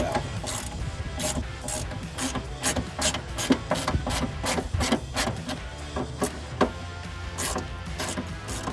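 Ratchet wrench turning out 10 mm bolts from a mounting plate on a 1999-2006 Silverado 1500 during a cold air intake install, rapid repeated clicking bursts in an uneven rhythm, close and fairly quiet.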